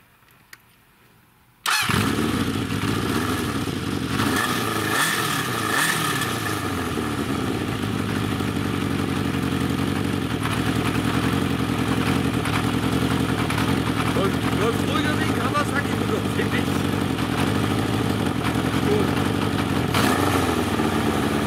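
A Honda CB750 cafe racer motorcycle engine fires up and settles into a steady, smooth idle that runs close and continuous, with a low even rumble and no revving.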